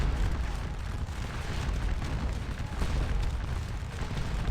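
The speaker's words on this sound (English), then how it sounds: "we've got our guns doing a good job bombing these guys right here" Artillery guns bombard in the Napoleonic battle game Scourge of War: Waterloo at Ligny, a dense, continuous low rumble of distant booms rolling together without a break.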